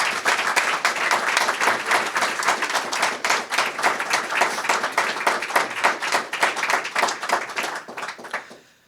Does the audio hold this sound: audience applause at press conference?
yes